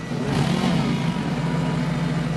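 A convertible car's engine runs steadily at mid revs throughout, a continuous low rumble with a broad wash of road or wind noise above it and no voices.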